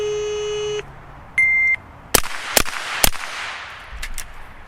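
Three sharp gunshots ring out in a quick two-then-one rhythm, firing a Mozambique drill at a range, preceded by electronic timer beeps and followed by two fainter clicks.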